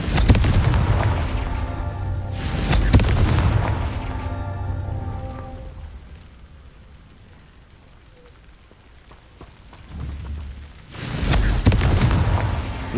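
Two heavy booming blasts of the Confringo spell in Hogwarts Legacy, each a loud burst followed by a rumbling decay, separated by a long quiet stretch with faint ambience.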